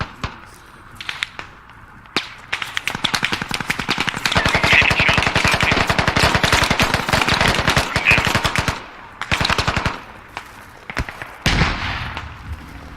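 Sustained automatic gunfire in the tactical shooter Squad, a long loud rattling burst of rapid shots with scattered single cracks and distant reports before and after, no talking.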